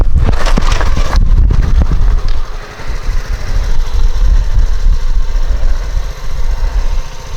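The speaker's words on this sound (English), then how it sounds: "Hopefully the bike will start, and then I'll quickly pull the clutch back in again." A motorcycle engine bursts into life after a push start, loud and close, with a rough initial roar settling into a steady idling rumble.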